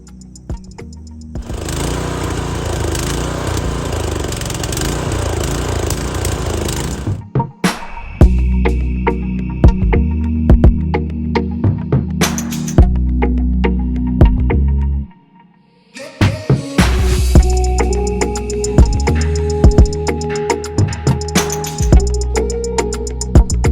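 A garden tiller churns soil with a loud, close engine drone and rattling tines, cutting out briefly twice before roaring back with clanking knocks.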